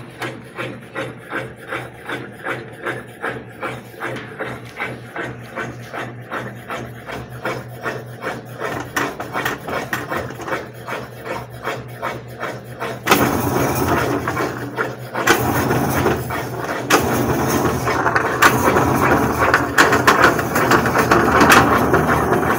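Digital washing machine running a spin cycle, a steady rhythmic mechanical whir with repeating pulses that grows louder and rougher about halfway through, heard up close with no talking.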